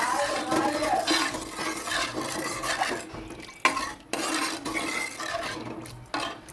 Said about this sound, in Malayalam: ഇനി നല്ലതുപോലെ ഒന്ന് മിക്സ് ചെയ്ത് തീ കൂട്ടിയിടാം.